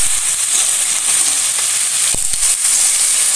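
Seasoning dropped into a hot pan of clam masala sizzles with a steady, close frying hiss, broken by a couple of brief stir clinks near the end.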